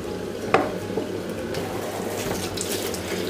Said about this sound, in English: next I'm going to wash my plantain, okay, before peeling them